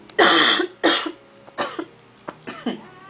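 A person with flu gives a run of coughs, two harsh and loud ones first, then several shorter, weaker coughs trailing off, close to the listener.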